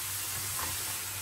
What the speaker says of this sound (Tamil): இந்தளவு சலசலன்னு வந்ததும் வெங்காயம் சேர்த்துக்கலாம்